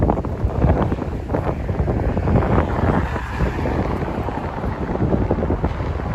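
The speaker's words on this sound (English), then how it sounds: "I don't know if you could all hear the wind." Gusty wind in New York City at night after a major rainstorm buffets the microphone with loud, continuous low rumbling and flutter, rising and falling without pause.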